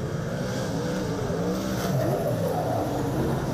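Super sedan race car engine revving hard at a dirt-track racing event in Lismore, Queensland, a loud continuous roar with rising and falling pitch sweeps as the car drives down the back straight.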